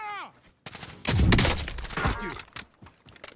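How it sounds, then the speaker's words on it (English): Bursts of gunfire in the Call of Duty Warzone battle royale game, several loud cracks and a dense volley clustered over a couple of seconds, with players talking over the action. "They're shooting him."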